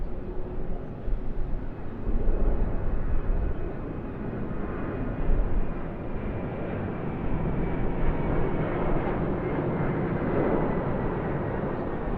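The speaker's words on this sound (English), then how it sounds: "another heavy departure, QANTAS Airbus A330-200" A heavily loaded QANTAS Airbus A330-200 jet departing Sydney Airport, a loud sustained engine roar and rumble that holds steady across the whole stretch, with no speech.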